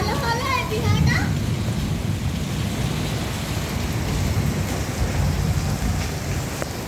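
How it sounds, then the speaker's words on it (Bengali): Steady rain from a storm that brought hail pours down in Keshabpur, a dense continuous wash of noise with children's voices and talk mixed in. "ঝড় বৃষ্টি এবং শিল পড়া অনেকটাই নিয়ন্ত্রণে চলে এসেছে। তবুও একেবারে যেন থেমে যায়নি।"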